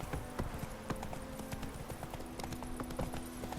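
Horse hooves galloping in The Witcher 3, a steady, rapid clip-clop that carries through the whole stretch at moderate loudness over a low ambient bed.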